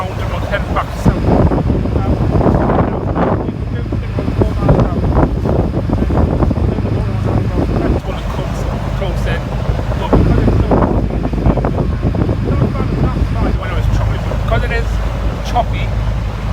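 Boat JFK2 running just off Blythe close to shore on a choppy sea, a steady low engine and water rumble with wind buffeting the microphone, continuous and fairly loud, with someone talking over it throughout.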